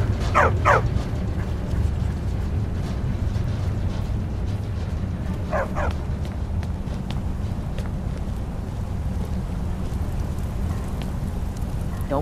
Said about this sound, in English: Don't mind the dogs. They get anxious when they haven't had dinner.